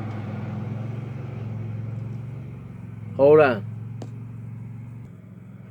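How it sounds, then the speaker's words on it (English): A lawnmower running outside makes a steady, muffled low drone that lasts throughout, with a brief spoken phrase over it. "That was the lawnmower."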